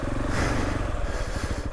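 Engine of a Gas Gas ES700 dual-sport motorcycle running steadily up close, a continuous throbbing drone with a rough pulsing low end.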